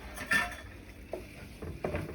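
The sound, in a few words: stirring roux base for shrimp etouffee in a pot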